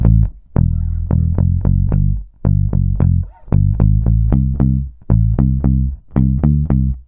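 Bass guitar plays a song riff with a push on beat four: punchy, repeated, tightly rhythmic low notes in short bursts, loud and close, with a slightly effected, gritty tone and no voices.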